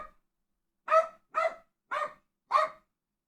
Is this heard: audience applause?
no